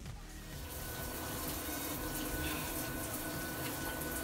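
Shower water runs steadily and close by, a continuous broadband hiss of spray with no breaks for the full length and no voices over it.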